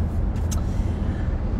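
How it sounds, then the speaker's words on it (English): A car drives slowly through traffic, heard as a steady low engine and road rumble from inside the vehicle, with a brief hiss partway through. "we are currently in traffic"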